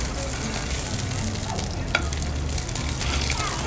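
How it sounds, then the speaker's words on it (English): Sesame-crusted ahi tuna sears in a hot pan with a steady, close sizzle and crackle, a brief clatter as the fish is flipped partway through. "So I'll just flip the tuna a little bit."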